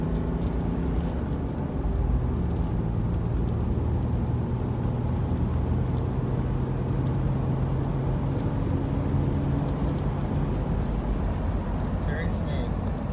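A 1990 Jeep Wagoneer Limited with its 4.0L engine accelerates, a steady, close interior drone of engine and road rumble that holds throughout without pause.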